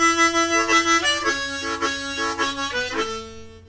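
Harmonica chords played with tongue blocking and staggered breath pulse in a wavering, breathy rhythm, swelling and fading like an accordion, close and moderately loud with no talking.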